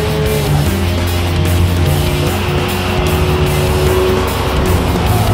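Racing car in the video game Tokyo Xtreme Racer 3 revving loud and steady at close range, its engine drone holding high through the whole stretch with no talk.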